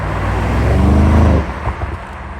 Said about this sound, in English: It is a twin turbo V8 getting 577 horsepower and 590 pound-feet of torque.